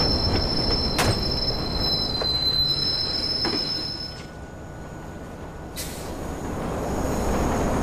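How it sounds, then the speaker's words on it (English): A train pulls into Parkfield station with high metallic wheel squeals ringing over a steady rumble of railcars, the squeal cutting in and out as it slows. "Southbound train arriving shortly."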